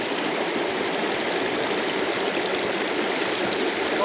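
A clear stream flows near Tirathgarh waterfall, giving a loud, continuous broadband rush of water with no pauses.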